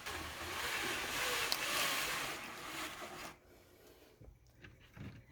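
Cordless mini-blinds are pushed up by hand, a soft sustained rubbing and sliding rustle for about three seconds, followed by a quieter pause and a few light clicks and taps.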